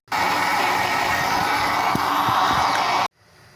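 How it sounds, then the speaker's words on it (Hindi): A blender whirs continuously as it purées grapes, ice and water for grape juice, a loud, steady motor roar with faint knocking of ice, stopping abruptly at the end. "और अब इसको ब्लेंड कर लेंगे।"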